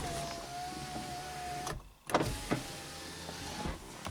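Passenger power window motor in a 2003-2007 Honda Accord whirring as the glass moves, faint and close, with a brief pause and a clunk partway through, no talking.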